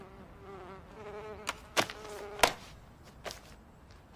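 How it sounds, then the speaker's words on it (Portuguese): Wasps buzz nearby in a faint, wavering drone, punctuated by several sharp clicks and taps. "Tenho que dar sumiço nessas vespas."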